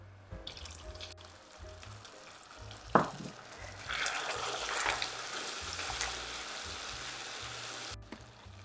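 Butter is dropped into hot caramel in a pan, followed by a soft, bubbling sizzle that rises and holds for several seconds before cutting off.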